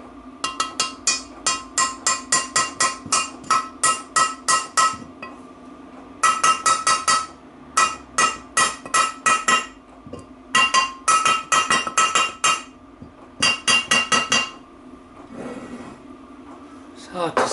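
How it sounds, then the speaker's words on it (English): A copper mallet lightly tapping a shim into a Freelander 2 rear differential during bearing installation: rapid runs of bright metallic taps in bursts, close and clear, with short pauses between groups. "I'm just going to start this very lightly with the copper mallet"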